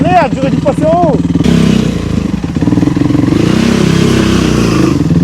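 A 450 motorcycle fitted with a loud non-stock BPM aftermarket exhaust revs with a steady, harsh, close engine roar. A voice can be heard in the opening second.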